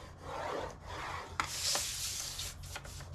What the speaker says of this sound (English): On the 5 inch side, I am going to score this at 7/8 of an inch